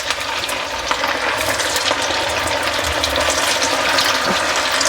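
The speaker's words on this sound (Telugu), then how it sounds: "అన్నీ మనము ఇట్లా డీప్ ఫ్రై చేసుకోవాలి" Sago vadas deep frying in hot oil, a steady dense sizzle with fine crackling bubbles running throughout, close and fairly loud with no talk.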